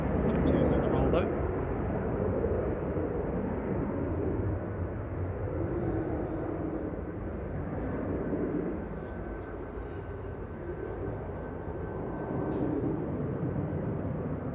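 A Jet2 airliner on its takeoff roll at Manchester Airport, a broad, steady engine roar held at a distance for the whole stretch.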